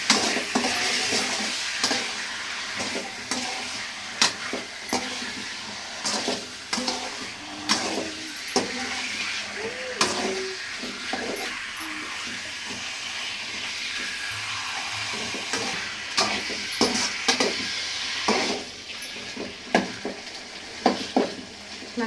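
Liver tossed with turmeric powder is stirred in a pan, giving quiet sizzling under repeated close scraping and clinking strokes of a spoon at an irregular rhythm.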